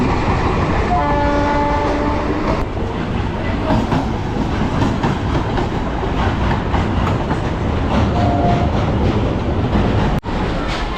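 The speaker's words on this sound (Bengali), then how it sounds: "ট্রেন ছেড়ে দিয়েছে, মায়াপুরের উদ্দেশ্যে রওনা হয়েছে।" A local train pulls out of Sealdah toward Mayapur, heard from inside with a loud continuous rumble and rattle of the carriages, a couple of short horn-like tones partway through.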